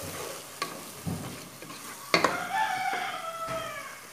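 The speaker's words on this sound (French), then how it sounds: "Donc je vais faire revenir le tout quelques minutes encore." Chicken and rice mixture sautéing in a pot, a soft steady sizzle with occasional stirring scrapes and clinks of a utensil, fairly quiet and close.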